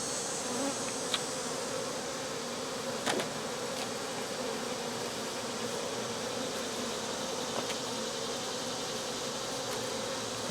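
Honeybees buzz steadily around a hive after rain, a close, continuous soft drone with a few brief louder passes of single bees near the microphone.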